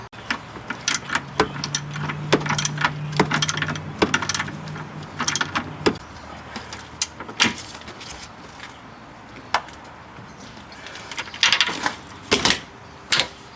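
Bolts on a 1999 Pontiac Grand Prix control arm are tightened with a ratchet, giving sharp metallic clicks and clanks at irregular intervals, with a short stretch of steady buzzing early on, close by and fairly quiet.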